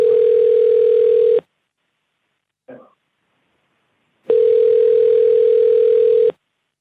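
An unanswered telephone call rings out over the line as two long, loud, steady tones separated by a silent gap, with a brief faint blip in between.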